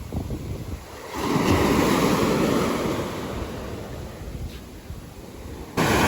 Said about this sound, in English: The waves today are just like, they're crushing right here on the shore.